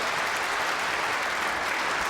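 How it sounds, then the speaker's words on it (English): Steady applause from a crowd at a lawn bowls match, the Scottish International Open, rewarding a good delivery; dense, even clapping continues throughout at moderate loudness without pause. "the crowd have responded with a clap because it's a good ball"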